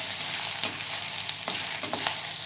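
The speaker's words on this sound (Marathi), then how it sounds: "आपल्याला हे बटाटे जे आहेत ना ते सर्व परतून घ्यायचे" Potatoes being stir-fried in a pan for a cauliflower and potato bhaji, a steady sizzle broken by several sharp scraping stirs, close and fairly loud with no talking.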